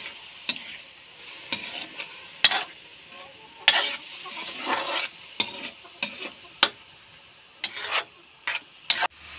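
Clams (kabibe) being sautéed in a pan for adobo, with a low steady sizzle broken by repeated sharp scraping and stirring strokes of a utensil against the pan, close and fairly loud, no voices.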